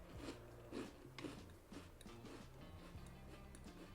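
Small, crunchy Scottish-made biscuits are bitten and chewed close up, giving quiet, rhythmic crunches roughly every half second against a soft background, with no talking.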